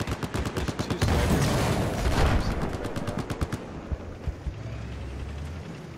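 Rapid gunfire in Battlefield 4, close loud automatic bursts with fast repeated cracks and a heavy blast in the middle, then scattered shots fading into distant battle noise.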